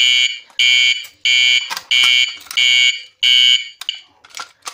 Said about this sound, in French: Je vais redéclencher une alarme